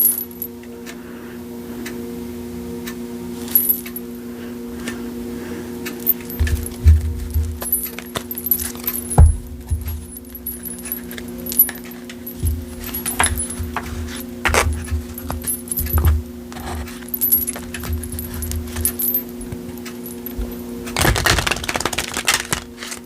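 Tarot cards shuffled by hand, a long run of soft irregular riffling clicks and taps over a steady low hum, with a louder flurry near the end.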